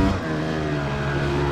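A 2004 Kawasaki KX250 two-stroke motorcycle engine revs at a sustained high pitch, a loud buzzing drone held steady over a short stretch with no talk.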